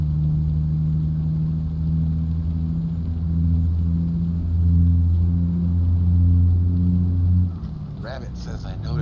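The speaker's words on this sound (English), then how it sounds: "The engine sound." A truck engine in American Truck Simulator drones in a steady low rumble for several seconds and then drops away as a voice speaks near the end.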